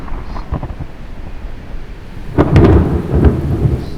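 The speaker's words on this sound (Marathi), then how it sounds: "त्याच्या पाठीमागे विजा कडाडतात" Thunder rolls over a cloud-filled valley below the Kokankada cliff on the Harishchandragad range just after a stormy rain, starting as a distant rumble and building to a loud, sustained crack and roar in the second half, with faint wind noise throughout.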